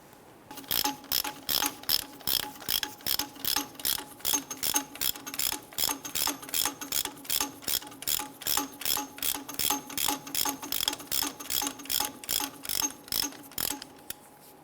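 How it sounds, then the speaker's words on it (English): A ratchet tightens a bolt on the steering stabilizer of a 1999-2004 Jeep Grand Cherokee, giving a long, steady run of evenly spaced metallic clicks in quick rhythm. The clicks are close and clear, with no speech. "Go ahead and install the bolt."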